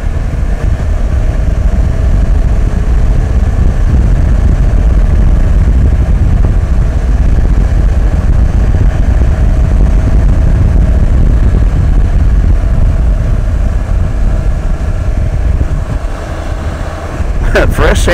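A Can-Am Spyder three-wheeled motorcycle cruises along, its engine drone steady beneath heavy, constant wind rush against the microphone, loud and close throughout.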